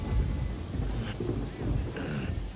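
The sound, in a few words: rain falling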